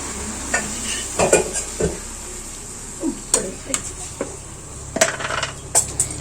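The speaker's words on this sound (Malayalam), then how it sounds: "ഇനി എല്ലാം കൂടെ നന്നായിട്ടൊന്ന് മിക്സ് ചെയ്തെടുക്കാം" A pan of Kerala banana stem and cowpea thoran being stirred, with a spoon scraping and clinking against the pan in irregular bursts over faint background noise and a low hum, close and moderately loud.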